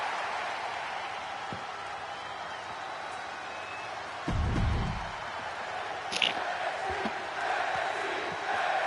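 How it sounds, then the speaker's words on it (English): Steady crowd noise fills an arena in the WWE 2K23 wrestling video game as an NXT UK match begins, a broad continuous roar with a few brief bumps and whoops, heard close and loud throughout. "The crowd has come alive, and now this match underway."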